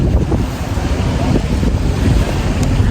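Wind and sea waves roll onto the shore at Corfu, Greece, a loud, continuous rush with heavy wind buffeting the microphone.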